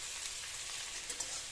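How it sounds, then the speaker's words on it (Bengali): Chopped onions and potatoes fry in hot oil while cooking an egg potato curry, giving a steady close hiss of sizzling with a few brief crackles and pops throughout. "পেঁয়াজটা একটু ভাজা হলে তারপরে আমি মশলাগুলো অ্যাড করবো।"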